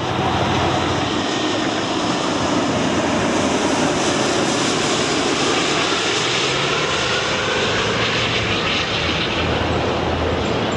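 British Airways Boeing 777 with GE90 jet engines at go-around power during a late aborted landing at Heathrow, a loud, steady, broad roar that holds throughout with no talk.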